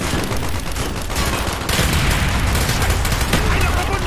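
Heavy automatic gunfire from a Call of Duty Black Ops battle rattles on in dense, continuous bursts with booming impacts.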